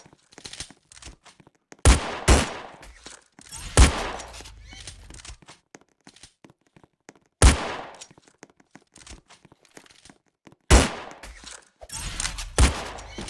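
Gunshots in a murder mystery video game: several sharp, loud shots in separate bursts spread across the stretch, some in quick pairs, with quieter game noise between them.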